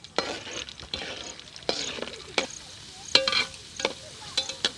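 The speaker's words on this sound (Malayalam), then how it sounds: "ഞാൻ കുറച്ച് ഉണക്കമുന്തിരി ഒന്ന് വറുത്ത് കോരി വെക്കണ്ടേ" Raisins fry in hot oil in a pan with a soft, continuous sizzle, broken by sharp clinks and scrapes of a spoon stirring against the metal at irregular intervals.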